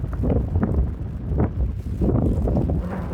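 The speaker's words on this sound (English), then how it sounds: "Try and get the wind off you a bit." Wind buffets a microphone at an exposed hilltop viewpoint, a steady low rumbling roar with gusts that swell and ease throughout, loud and close with no clear speech.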